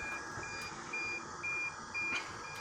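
Short electronic beeps repeat at a steady interval, high and thin, over a quiet background hum with no talking.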